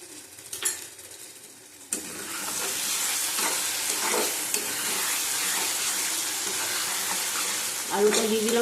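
Potatoes frying in a pan with whisked sour yogurt over low heat, a broad steady sizzle that begins abruptly and holds, with occasional stirring scrapes and utensil clinks nearby.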